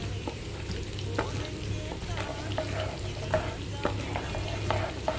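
Green chillies fry in hot oil for a Chettinad karunai kilangu masiyal, a steady close sizzle broken by repeated clicks and scrapes of a spoon stirring the pan.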